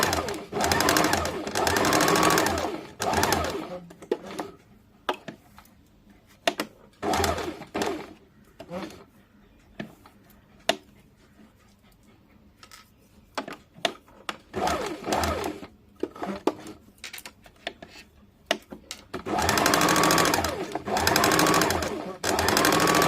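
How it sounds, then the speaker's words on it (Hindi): A sewing machine stitches a kameez seam along a half-inch line in fast whirring bursts separated by quiet pauses, with someone talking in the gaps. "इस प्रकार से 1/2 इंच वाले लाइन पे सिलाई कर लीजिएगा।"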